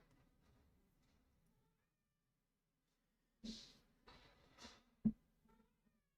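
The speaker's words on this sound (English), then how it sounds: "it's meowing from up there." A cat meows from up high in a quiet room, a few separate cries in short succession, fairly faint and at a distance, followed by a small thump.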